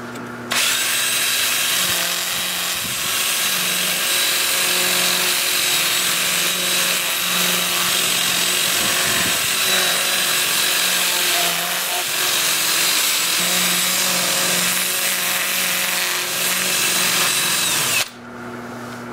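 Manzanita wood spinning on a lathe is sanded with 180 grit Sandoflex, a loud continuous whirring hum with a steady motor tone and scratchy abrasive rubbing, running unbroken until the machine cuts off near the end.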